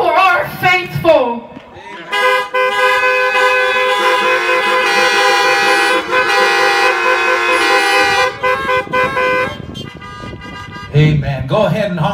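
Many car horns honk together at a drive-in church service, a loud sustained blare of overlapping tones for several seconds, with a speaker's voice before and after.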